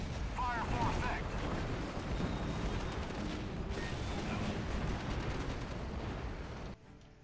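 Booming artillery fire in the 2004 WWII strategy game Axis & Allies during a D-Day Operation Overlord battle, a dense continuous rumble of blasts layered with battle noise that cuts off abruptly near the end, with faint voices.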